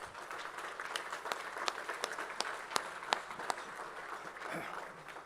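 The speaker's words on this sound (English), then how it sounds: "So give yourselves a round of applause, and thank you to all the partners" Audience applause at an awards night, a steady wash of clapping from a room full of people with a few sharper individual claps standing out, moderately distant and sustained throughout.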